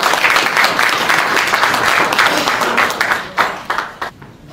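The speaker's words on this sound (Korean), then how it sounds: "교수님을 박수로 모시겠습니다." Audience applause in a second-floor auditorium at a church hall, welcoming a professor on stage at a founding ceremony; dense steady clapping from a crowd that thins out and trails off near the end.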